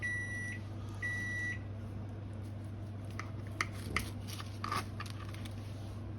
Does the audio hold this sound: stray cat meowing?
no